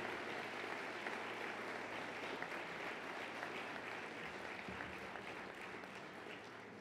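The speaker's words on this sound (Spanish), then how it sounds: "Vamos a tributarle un caluroso aplauso a estos funcionarios con 40 años de servicio en la universidad" An audience at a university anniversary ceremony gives warm applause for staff members with 40 years of service, a steady, even wash of clapping that sounds fairly distant and quiet throughout.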